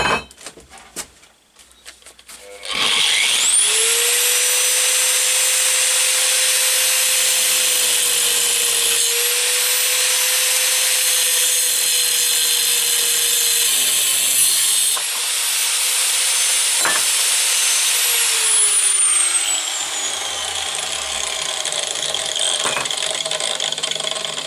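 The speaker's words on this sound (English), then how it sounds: "Get the angle grinder" An angle grinder cuts metal for a go-kart rear axle sprocket adapter, a loud sustained high whine that spins up after a couple of seconds and holds for about twenty seconds with small dips in pitch, close and without talk.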